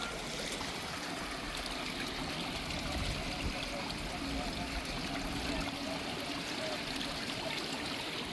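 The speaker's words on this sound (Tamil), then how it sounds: "பாருங்க இப்படி தண்ணி ஓடி வருதுண்டு" Rainwater runs and trickles steadily after rain near an Indian Army bridge construction site, a constant, moderately quiet wash like a small stream, with no voices.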